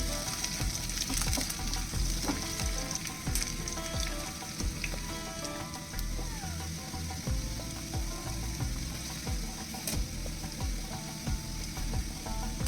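Onions frying in a pan for kanda poha give a steady, dense sizzle with scattered clicks and scrapes from stirring. It sounds close and fairly loud, continuous throughout, with no talking.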